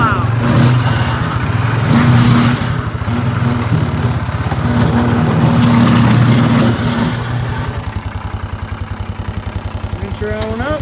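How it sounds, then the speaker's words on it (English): A 2018 Polaris Sportsman ATV fitted with a 60-inch Kolpin plow pushes snow, its engine revving and surging nearby before settling to a rougher idle, with a voice talking over it. "So I'm gonna get out there and try to do this, do some plowing right now."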